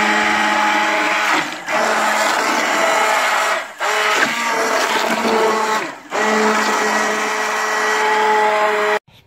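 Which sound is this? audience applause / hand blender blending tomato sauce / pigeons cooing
hand blender blending tomato sauce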